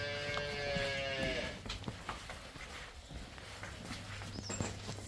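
A cow gives a long, loud moo at the start, followed by quieter farmyard shuffling and movement nearby.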